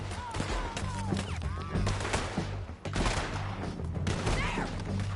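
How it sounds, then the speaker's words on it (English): Dense, continuous volley of gunfire aimed at a man, rapid overlapping shots with no break, while shouting voices rise over the barrage. "You got him? ¡Shoot that hijo de puta!"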